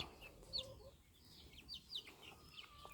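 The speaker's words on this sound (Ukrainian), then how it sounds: "для любителів подивитися, поспостерігати на курчаток" Soft, scattered clucking from a few chickens, with occasional higher chirps against quiet background noise, fairly faint and irregular.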